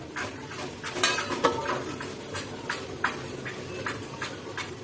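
A lid set down over a pot of egg curry with potato and papaya, a few light metallic clinks and taps spread across the stretch over a low background hum.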